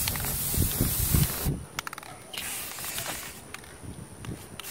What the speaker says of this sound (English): I'm gonna spray paint and give it like a second coat.